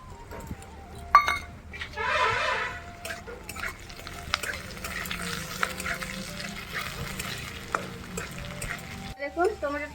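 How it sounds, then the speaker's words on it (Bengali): Onions and chopped tomato frying in a pan for masoor dal, a continuous sizzle with scraping stirs and clatter, some louder bursts and a voice speaking at times. "পেঁয়াজগুলো ভালো করে ভেজে নিচ্ছি টমেটো কুচিটা দিয়ে দিলাম"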